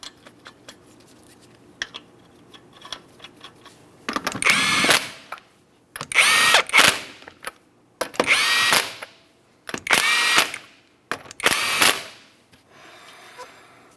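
A power impact tool fires five loud, separate bursts at a Jeep Liberty wheel, driving its 19mm lug nuts on one after another. Each burst is about a second long with short quiet gaps between them, and no one talks.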